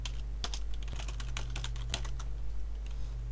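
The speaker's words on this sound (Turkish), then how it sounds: "Parolayı tekrar yazıyorum." Password being typed on a computer keyboard during a Windows 7 installation, a steady run of close, crisp key clicks over a low constant hum.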